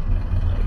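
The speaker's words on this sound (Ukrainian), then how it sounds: "Дизельна машина рядом їде, нічого не чутно." A diesel car runs close by, a steady low engine rumble filling the whole moment at constant loudness with no pause.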